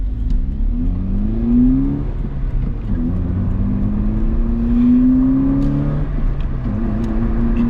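A GD3 Honda Fit with a cheap aftermarket intake buzzes and drones as it accelerates, pitch rising through several gear pulls with a loud, raspy intake note.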